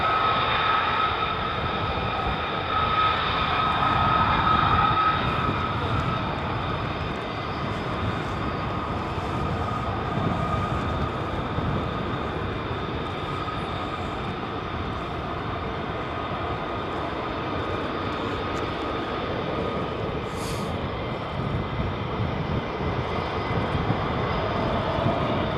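F-35 fighter jets lined up at RAF Lakenheath give off a sustained, roaring engine drone that swells and eases slightly over time, heard from a distance through a perimeter fence with no talking.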